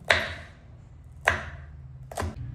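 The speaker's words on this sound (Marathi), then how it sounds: "आता हे 4-5 मिरच्या हिरव्या घेतलेल्या आहेत, तिला पण बारीक कट करून घेऊ मिरचीला" Green chillies being chopped finely with a knife on a board: three crisp, distinct chops spaced about a second apart, close up, with no speech.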